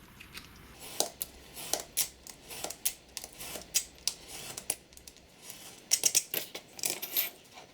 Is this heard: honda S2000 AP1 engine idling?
no